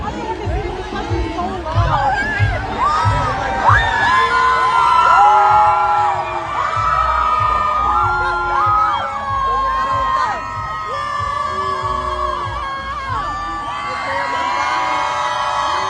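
A large outdoor crowd cheers, whoops and boos at Mayor Mamdani. Many overlapping shouting voices and sustained calls swell and fade over a steady roar, and no single speaker stands out.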